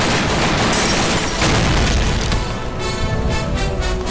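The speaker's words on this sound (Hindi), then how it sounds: "officers ready," Gunfire volley from police officers on command in a Hindi-dubbed Telugu action film, a dense loud burst of shots and booms filling the whole stretch with a continuous crackling roar, no talk over it.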